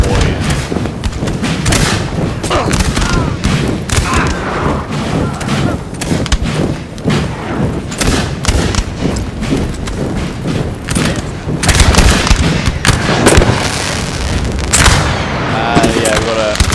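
Musket volleys crackle and boom in a Napoleonic battle from Napoleon Total War, dense overlapping shots and thuds rolling continuously with a heavier burst near the end, under a voice.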